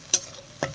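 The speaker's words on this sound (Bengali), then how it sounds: "এটা আমি অনেকক্ষণ থেকে নেড়ে নিচ্ছি" Two quick spatula strokes scrape through a thick rui fish head and taro leaf curry in a pan, brief and fairly close against a faint background sizzle.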